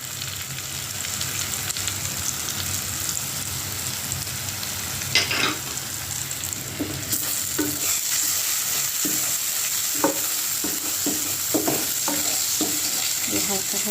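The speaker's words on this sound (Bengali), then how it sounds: "হালকা করে ভেজে নেব" Spice paste with turmeric and chili powder frying in a pan for shingara filling, a steady sizzle broken by scraping stirs and clinks of a spoon against the pan, close and continuous.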